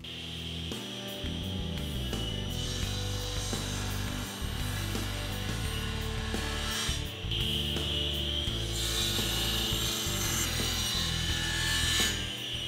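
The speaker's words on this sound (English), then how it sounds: "to pull that off, I'm gonna use my Microjig tapering jig." A Microjig tapering jig guides a wooden bookcase post through a cut to form a subtle taper, giving a continuous loud saw whine and rasp that lasts throughout with no talk.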